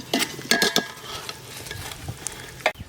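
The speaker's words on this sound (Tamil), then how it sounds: "நல்லா வதங்கிருச்சு வெங்காயம்." Onions sauté in a pan for Chettinad chicken gravy, with a soft sizzle under sharp clinks and scrapes of a spoon stirring against the pan in short bursts.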